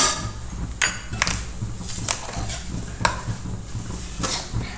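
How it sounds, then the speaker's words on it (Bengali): A spoon scrapes and clinks against a pan while someone stirs a coconut barfi mixture, with sharp metallic knocks at irregular intervals over a soft rustling, close and fairly loud. "আমি এটা ভালো করে মিশিয়ে নেব।"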